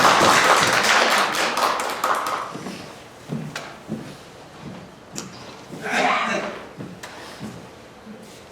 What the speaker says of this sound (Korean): 나오실 때 힘차게 박수를 환영하겠습니다.